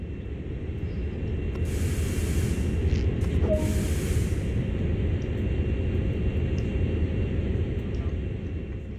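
Train air brakes releasing on a CSX heavy haul freight train in Train Sim World, a steady loud hiss of escaping air over a low rumbling idle, swelling in short bursts before settling into a sustained rush.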